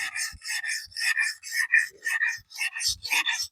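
A camp knife edge is sharpened with steady back-and-forth rasping strokes, about nine close, even passes with short gaps between them, and nothing else heard.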